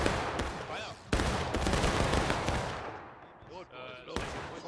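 Musket volleys ring out in War of Rights, an American Civil War battle game, with rapid overlapping rifle cracks and loud rolling reports, a dense fusillade that pauses and starts again, with brief voices shouting in the mix.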